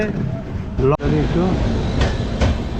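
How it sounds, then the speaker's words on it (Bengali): The Vivek Express, the Dibrugarh–Kanyakumari train, at Kishanganj station: a loud, close, steady rumble of rolling carriages with rhythmic clacks, a brief dropout near the start, and a voice over it. "এই হচ্ছে বিবেক এক্সপ্রেস"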